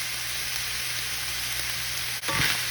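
Onions and peppers sprinkled with a no-salt garlic and herb seasoning fry in a skillet, giving a steady, close, even sizzle with no talk, and a brief clatter near the end.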